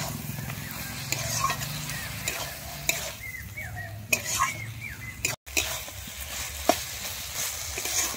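Spice paste being stirred and fried in a pan, with a spoon scraping and clinking against the metal over a steady low sizzle, close by and with no talking.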